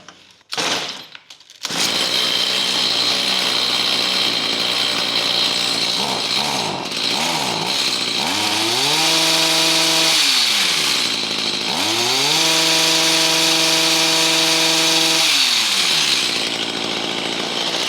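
A chainsaw engine is restarted without choke or purge after a brief pull, then runs loudly and steadily close by, with its pitch rising and falling through two long revving surges.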